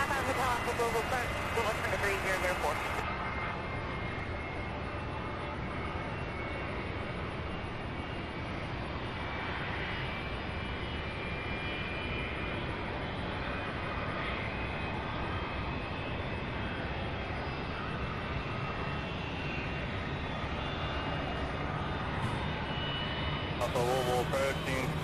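An airliner bound for San Juan, Puerto Rico passes overhead, a steady, broad engine roar holding at moderate loudness for the whole stretch, with brief bursts of radio-like noise at the start and end.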